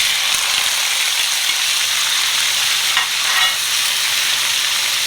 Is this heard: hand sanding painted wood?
no